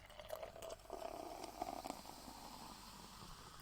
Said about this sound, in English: That's a good pour sound too.